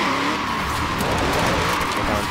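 Mazda RX-7 in Forza Horizon 4 with a loud, continuous engine roar and sustained tyre skid squeal, steady and close with no talk.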